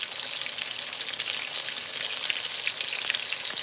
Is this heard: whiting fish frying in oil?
yes